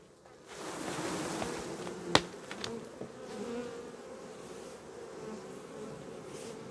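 Honeybee colony in an open hive during end-of-season treatment, a steady dense buzz of many bees close by, with a few sharp clicks and knocks of the hive being handled around the second mark.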